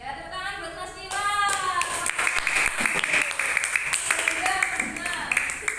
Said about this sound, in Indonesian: tepuk tangan buat Mas Niwa